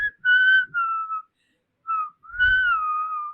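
A lone person whistles a melody in clear, sustained tones, with two phrases separated by a short pause.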